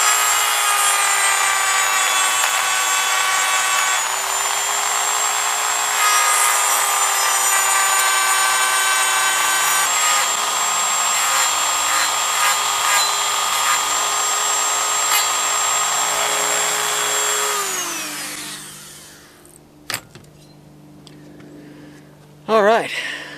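A burr tool grinds the cylinder ports of a Stihl chainsaw, a loud, close, high-pitched whine holding steady with slight pitch shifts for about seventeen seconds before spinning down, followed by a few brief clicks and handling sounds.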